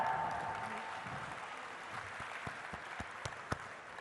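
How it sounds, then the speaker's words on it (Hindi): Applause from an audience at the IFFI film festival, a soft, diffuse wash of clapping that fades, leaving a few distinct sharp claps near the end. "उसके लिए प्लीज जोरदार तालियां"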